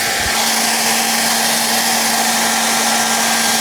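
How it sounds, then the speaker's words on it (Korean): A hair dryer switched on to heat a ballot paper, running at a loud, steady, continuous whir with an even hum throughout. "하나는 드라이기를 켜볼 거고요"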